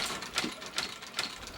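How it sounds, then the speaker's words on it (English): A heavy-duty industrial sewing machine strong enough to stitch through half-inch plywood, running with sharp rhythmic clacks about every 0.4 seconds over a steady mechanical whir, close up and alone. "This sewing machine here will sew through a half-inch piece of plywood."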